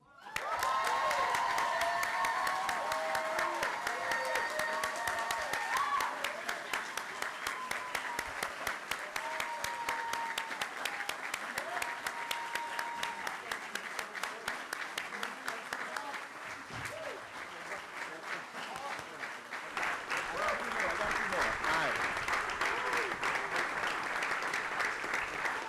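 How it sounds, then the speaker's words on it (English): Sustained audience applause at a stadium partnership announcement, dense clapping from a large crowd with occasional cheers, steady and loud for about twenty seconds with a brief dip before swelling again. "Thank you all for that applause."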